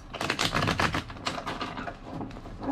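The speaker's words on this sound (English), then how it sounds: "Two more shuffles." A deck of tarot cards being shuffled by hand, a quick run of close, crisp riffling flutters that come in short bursts and then taper off, with no voice over them.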